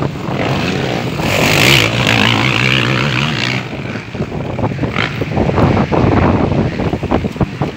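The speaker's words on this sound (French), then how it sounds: "Il est froid. Putain, le vent de merde." Cold wind gusts buffet the microphone at an outdoor motorcycle time trial, a loud rumbling roar that swells and fades, with a brief engine-like tone early on.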